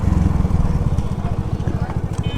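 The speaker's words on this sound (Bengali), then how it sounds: "এটা হচ্ছে 70 সিসির একটা গাড়ি, বাট এটা চালায় মজা আছে" A 70cc Honda motorcycle engine idles close by, a steady low, rapid pulsing thrum throughout with a faint higher whine near the end.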